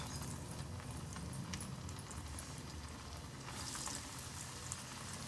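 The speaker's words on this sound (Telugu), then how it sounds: "దీనేమో డీప్ ఫ్రై చేద్దాం" Taro root (colocasia) pieces deep frying in oil, a steady dense sizzle and crackle with popping bubbles held at an even level throughout, fairly close.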